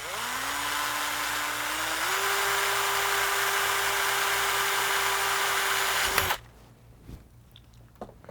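A power drill bores a pilot hole with a steady high whine that rises slightly in pitch partway through, running loud and continuous for about six seconds before cutting off, followed by a few faint handling knocks.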